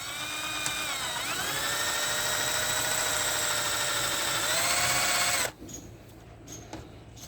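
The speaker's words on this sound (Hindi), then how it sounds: "अब इससे हम लोग ड्रिल करके देखेंगे।" A Build Skill cordless drill-driver runs steadily for about five seconds, its motor whine shifting pitch slightly under load while drilling a 12-gauge pipe, then cuts off abruptly, leaving faint handling noises.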